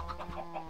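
Chickens in the Minecraft FTB video game give a quick run of short, clipped clucks, alone and fairly close.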